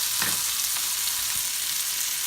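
Tomatoes sauté in a pan for spicy fish curry, giving a dense, constant sizzle with a faint stir or scrape now and then. The sound is close and even, with no talking.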